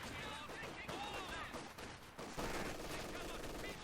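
MG42 machine gun fire in a World War II strategy game pits Wehrmacht against Soviet forces, with rapid bursts and scattered gunshots over a busy battle mix, heard faintly at low level.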